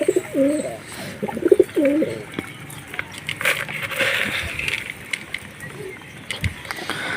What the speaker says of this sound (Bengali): আমার আশেপাশে কবুতরগুলো বেশিরভাগ হাটপিট করে